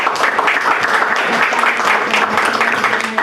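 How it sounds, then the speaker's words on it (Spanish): Audience applause at a lecture welcoming the day's guest speaker, dense steady clapping from a full room sustained throughout with faint voices underneath. "Demos un aplauso, por favor"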